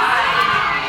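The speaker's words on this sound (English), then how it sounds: "please can you scream yes in any language other than English?" A live audience at a positive psychology session shouts loudly all at once, a dense wall of mixed voices and cheers filling the whole moment, close and unbroken.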